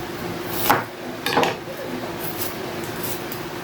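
A knife cuts onion on a cutting board while preparing a salmon dish, with two distinct close knocks of the blade against the board and then softer scraping over a steady background hum.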